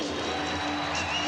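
Basketball arena crowd at a 1997 NBA game between the Chicago Bulls and Atlanta Hawks, cheering on its feet during a timeout, a steady loud roar of many voices with whoops, continuous throughout.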